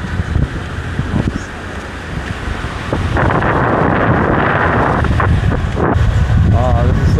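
Strong beach wind in Playa del Carmen, Mexico, buffets the microphone with a loud, continuous roar that grows heavier partway through, with some speech-like sound mixed in.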